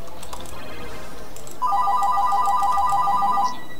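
A phone ringtone chirps out a repeating electronic melody for about two seconds, fairly loud and clear over the faint background of a League of Legends match.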